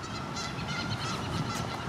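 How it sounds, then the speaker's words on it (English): Geese honk repeatedly from a distance along a stream in a city park, a steady chorus of overlapping calls over faint outdoor ambience. "And I hear some geese now."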